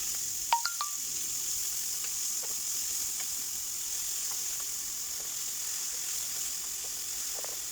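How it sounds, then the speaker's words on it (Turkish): Steady, hissing sizzle of minced meat frying in hot oil in a pan, constant and close, with a few faint clicks and scrapes of stirring near the start. "Yağımız ısındıktan sonra kıymalarımızı güzelce kavuruyoruz."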